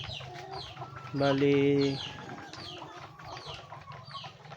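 A flock of about 200 chickens clucks and chatters close by, with one drawn-out louder call midway; a person speaks briefly in Filipino among them.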